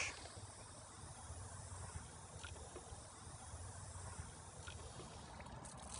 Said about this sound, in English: the water coming out of the tank right now is all black